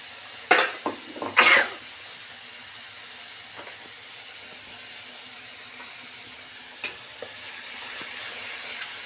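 Onion, garlic and ginger fry for chilli chicken, a few sharp loud sizzling bursts at the start fading into a faint continuous hiss with an occasional click, close.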